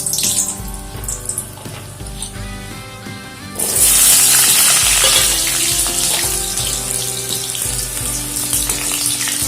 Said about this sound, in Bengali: আলুগুলো খুব ভালো করে ভেজে নেব।